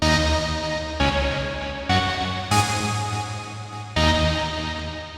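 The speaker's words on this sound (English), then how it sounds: "So for reverb, that'll sound like this." Distorted electric guitar chords through a Syntrx II pedal's reverb effect, struck a few times, each one ringing out with a long, washy reverb tail that lingers and blends into the next.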